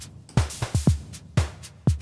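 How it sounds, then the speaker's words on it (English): A music mix with a conventional reverb applied plays punchy low drum hits in an uneven pattern. Each hit is followed by a smooth decaying tail, and no voices are present. "if your expectation of a reverb is that it needs to"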